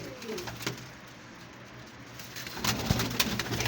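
Pigeons coo in a loft, with 33 birds freshly dyed with colour; soft, low calls come in short bouts amid rustling, growing busier toward the end.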